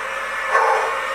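A single short dog bark, close and sharp, over a steady background hiss.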